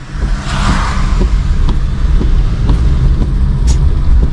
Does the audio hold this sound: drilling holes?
no